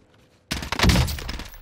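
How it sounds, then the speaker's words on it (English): Call of Duty Warzone gunfire from an opposing team in Cold War Warzone, a sudden loud burst of rapid shots after a brief quiet, continuing as sustained automatic fire with no talk. "Oh, they're shooting. Different team."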